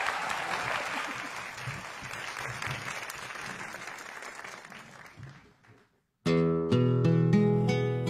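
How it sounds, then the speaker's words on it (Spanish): An audience at a Canal 11 contest in 2019 applauds loudly and steadily for several seconds, fading out before a student tuna ensemble begins playing bright strummed strings and singing. "fuerte ese aplauso"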